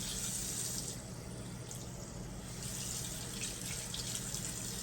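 Tap water runs steadily to warm it before a variegated Philodendron Burle Marx is rinsed, making a continuous, even rush of splashing water close by with no voices.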